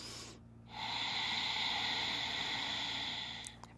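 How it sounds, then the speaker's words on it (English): Ujjayi breathing in a gentle yoga flow: a long, steady exhale pushed through a constricted throat, hissing and ocean-like, close and alone after a short pause. "as you exhale, constrict the back of the throat, making an audible sound, ujjayi breathing"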